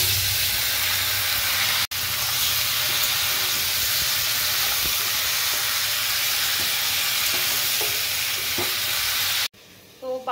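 Chopped vegetables dropped into hot oil tempered with spices in a pan, sizzling and frying loudly and steadily for several seconds, with a brief break near two seconds and the hiss cutting off near the end.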